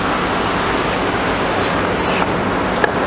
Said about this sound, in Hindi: इसमें डालिए, ये 500 ml का जग है, हमें गिन के 10 जग डालेंगे इसके अंदर।